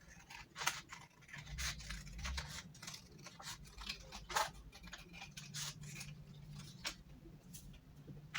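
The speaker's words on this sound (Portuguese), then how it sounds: "Eu vou cortar as escalas." Scissors snipping through thick printed paper scales, a quiet close series of irregular crisp cuts and rustles with short pauses between them, no one speaking.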